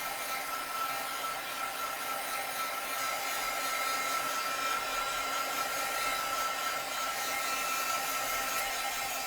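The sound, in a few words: craft heat tool blowing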